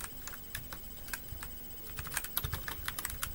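Code being typed on a computer keyboard in an Android Kotlin tutorial, a close, quiet run of irregular key clicks that grows busier and more rapid toward the end.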